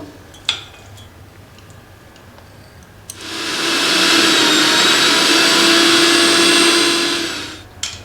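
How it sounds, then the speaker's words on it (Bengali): A mixer grinder whirs loudly and steadily for about four and a half seconds, grinding fried onion, garlic, ginger and chilli, preceded by a few clinks and ending with a click. "এবার আমি মিক্সিতে বেটে নেব"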